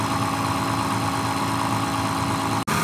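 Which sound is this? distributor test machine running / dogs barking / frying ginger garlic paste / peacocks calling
distributor test machine running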